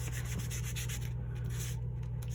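Distress Oxide ink, Aged Mahogany, is rubbed onto paper with a small blending tool, making a steady close scratchy brushing that continues without break over a low background hum.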